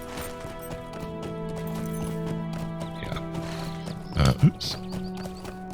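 A horse in the LotRO video game trots with steady, rhythmic hoof clip-clops and lets out a short whinny near the end. Someone speaks briefly over the sounds.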